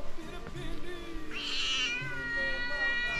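A cat meows several times, close and fairly loud, in a mountain village, while a person speaks softly to it between the calls.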